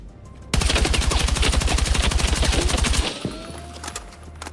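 Rapid, evenly spaced automatic rifle fire in Battlefield 6, fired while strafing side to side, rattles loud and steady for about two and a half seconds before cutting off into a fading tail and faint clatter.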